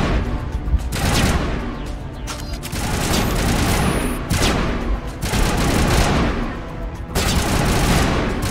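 Sustained gunfire rattles through a Mass Effect firefight, loud overlapping bursts and volleys repeating in waves with brief lulls between them, no talk over it.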